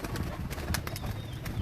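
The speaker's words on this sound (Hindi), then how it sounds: "ये हैं जी हमारे लाडले कबूतर यहाँ सबसे ज़्यादा" Pet Teddy and Rampuri pigeons in a Karachi pigeon keeper's loft give soft, low cooing in a brief stretch amid light background rustle.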